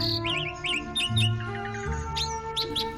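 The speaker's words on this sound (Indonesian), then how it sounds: "burung itu melompat dari dahan ke dahan dengan sukacitanya, bersiul-siul dan menari-nari" A green bird with a red beak chirps and whistles from leafy tree branches, with a rapid series of bright tweets and short trills repeating over about three seconds, close and clear, with no talking.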